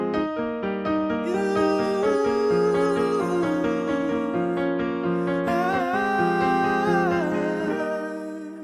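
Piano plays a practice drill: repeated arpeggiated chord patterns in a steady, even rhythm, clear and close, with no voices.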